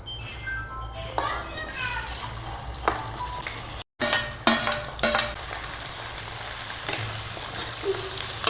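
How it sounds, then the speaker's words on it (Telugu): Budamkaya vegetables frying in hot groundnut oil, a steady crackling sizzle with a few louder bursts and clatters as pieces drop in, while a voice talks and a voice is heard nearby. "ఈ ఆయిల్లో మంచిగా బుడంకాయలను వేపాలి"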